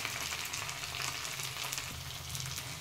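Sauces frying over a low flame for fried rice, producing a faint, even sizzle that runs steadily throughout with slight crackling texture and no voices.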